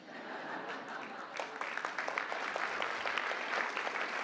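Audience applause at the National Prayer Breakfast with President Trump, a steady wash of many hands clapping that swells partway through and continues, with faint scattered voices underneath.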